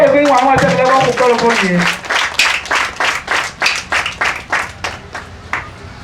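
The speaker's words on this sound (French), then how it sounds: "Applaudissons-les une fois" Ceremony audience for an agency event in Ouesse, Benin, breaking into applause that settles into rhythmic, unison clapping, loud and close, with a voice speaking over the opening moment.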